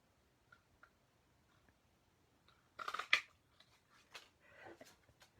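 Scissors snip through paper to cut geometric shapes, giving a few faint close-up clicks and then a brief cluster of crisp cutting sounds with soft rustling afterward.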